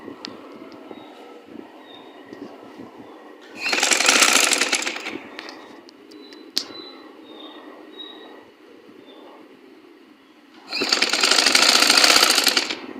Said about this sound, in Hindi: अब हमने अंदर की साइड पे फोल्डिंग करके यहाँ पाइपिंग की सिलाई लगा लेनी है।